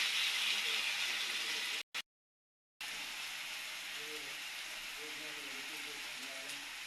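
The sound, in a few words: tomato frying in a pan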